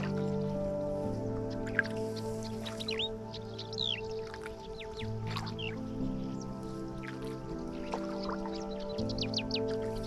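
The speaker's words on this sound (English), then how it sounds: "you hear all the birds chirping, like kind of different types of birds flying around, chirping" Varied bird chirps and whistles from several species at Loktak Lake, some near and some farther off, over a low droning engine hum.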